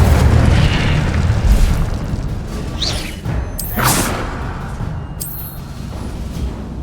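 Incendio fire spell in the video game Hogwarts Legacy, heavy booming blasts with fiery whooshes and sharp bursts, loud and close, repeated several times.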